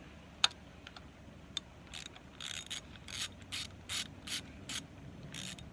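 Bolts being loosened on the thermostat housing of a 2006 Yamaha 115HP outboard, with a sharp click followed by a run of quiet, rapid ratchet clicks in short bursts.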